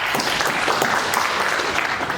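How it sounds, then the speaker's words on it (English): Audience at a graduation ceremony clapping, dense continuous applause from many hands, fairly loud and steady for a couple of seconds. "Let's clap for him."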